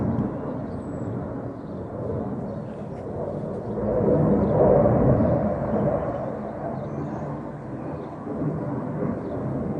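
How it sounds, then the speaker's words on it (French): A Rafale fighter jet at an air show gives off a continuous low roar that swells in the middle as it passes, then fades off into the distance. "Il est très impressionnant cet avion."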